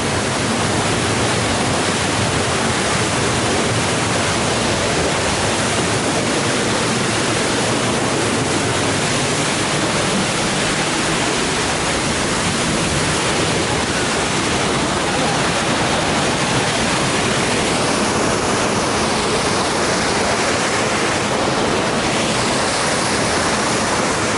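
A 70-metre waterfall at Voden, Macedonia, roars steadily and loudly for the whole stretch, a dense unbroken rush of falling water with no voices over it.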